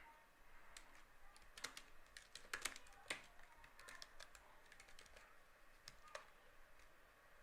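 Quiet keystrokes on a computer keyboard while writing a Python for loop, irregular clicks in short bursts over a faint background hiss, with no talking.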